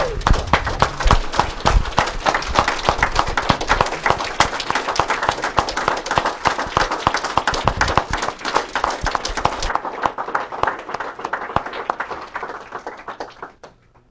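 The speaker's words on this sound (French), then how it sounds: "je pense qu'on devrait lui faire une grande main d'applaudissement à Maxime" Mourners at a funeral for Maxime give a long standing ovation, loud continuous clapping from a large crowd that keeps up for about ten seconds before thinning out and fading away.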